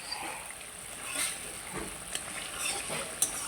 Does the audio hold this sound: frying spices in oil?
yes